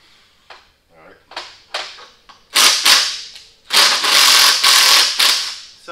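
Ratchet wrench working loose a bracket on the turbo line of a Mack Cruise Liner truck, with short clicking bursts that grow into longer, louder ratcheting runs, close by.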